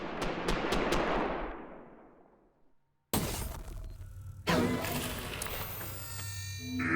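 Gunfire from a mega smart gun in a video game: rapid sharp shots, then a long ringing decay, followed by loud crashing blasts and continued firing, with some voices.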